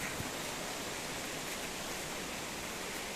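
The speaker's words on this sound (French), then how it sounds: "Ah, vous entendez la pluie, hein, ça pleut." Rain falls steadily over a vegetable garden with eggplants, tomatoes and chili plants, a constant, even hiss of close drops with no break, and no voices.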